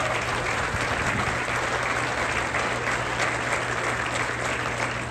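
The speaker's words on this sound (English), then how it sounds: "Let's hear a round of applause for everybody who came out this morning." Steady, dense applause from a large audience at a groundbreaking ceremony for a VinFast electric-vehicle factory in North Carolina, with continuous clapping filling the space evenly and a faint hum underneath.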